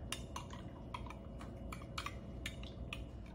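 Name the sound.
spoon stirring pumpkin drink ingredients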